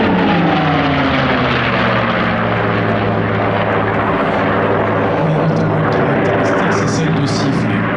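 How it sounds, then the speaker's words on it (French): A P-51 Mustang and a Corsair, World War II propeller fighters, drone loudly overhead at an airshow, a steady throbbing engine roar with a harmonic buzz that shifts as they pass, while a voice comments over it. "Le Corsair le suit. Le Mustang est un avion assez extraordinaire."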